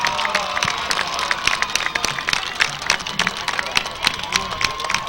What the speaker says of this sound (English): So the crowd comes to life for Nevada Union.